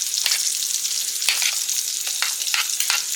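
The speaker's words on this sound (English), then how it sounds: "Just going to stir them around." Grits with butter and white cheddar are stirred in a hot pan, a steady close sizzle broken by several scraping strokes of the spoon, with no voices.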